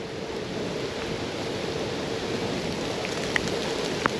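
Rain falls steadily during a gravel bike ride, a dense, even hiss of water and wind with a couple of brief sharp ticks near the end.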